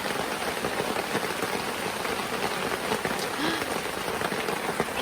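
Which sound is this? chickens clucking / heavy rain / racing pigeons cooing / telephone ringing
heavy rain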